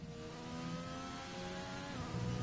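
A McLaren race car's engine in a sim racing game hums at a steady mid pitch, quiet and continuous with slight rises in revs, no voices over it.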